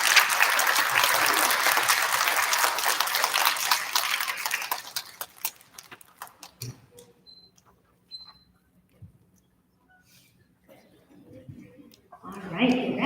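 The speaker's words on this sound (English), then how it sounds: "Round of applause for our UPK students." An elementary school audience claps for pre-K students at a quarterly student recognition ceremony. The applause is full for several seconds, then fades away, leaving a near-quiet room with a few scattered clicks and rustles.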